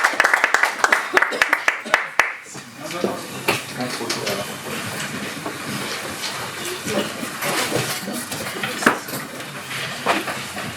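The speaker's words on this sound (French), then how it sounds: "nous vous demandons de l'accueillir, s'il vous plaît, avec vos applaudissements." Audience applause welcoming a speaker at an inauguration event in Paris, a crowd clapping fairly near, with sharp claps opening the stretch and a denser, steady wash of clapping and murmur continuing to the end.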